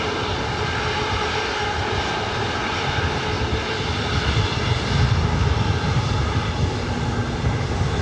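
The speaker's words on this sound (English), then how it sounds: "This is Southwest Airlines Flight 3490 heading to Denver." A Southwest Airlines Boeing 737 MAX 8 on the ground at LAX, bound for Denver, gives off a loud continuous jet-engine roar that swells slightly midway, a broad steady rumble with no voices.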